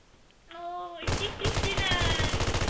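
Rapid automatic gunfire from a PUBG Mobile match, a dense, loud burst of shots that starts after a brief tonal sound and keeps rattling to the end.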